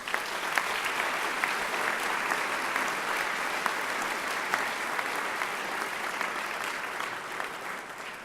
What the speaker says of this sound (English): So please offer them, some of them here tonight, a big round of applause.